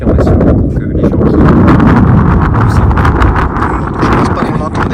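Strong wind buffets the microphone outdoors on Montserrat mountain, making a loud, steady, rumbling roar with gusty swells throughout. Bits of voices can be heard under it.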